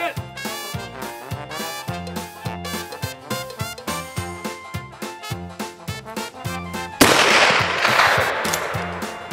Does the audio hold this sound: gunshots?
yes